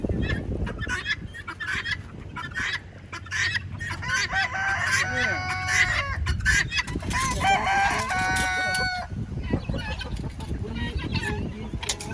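Chickens cluck and a rooster crows repeatedly, with other fowl calling in a busy, noisy barnyard.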